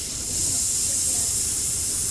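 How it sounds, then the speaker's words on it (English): Cold cryotherapy liquid spraying under high pressure from a released valve: a loud, continuous, steady hiss that swells slightly at the start and holds without a break. "Okay, so stuff's spraying out. It's kind of under high pressure and stuff."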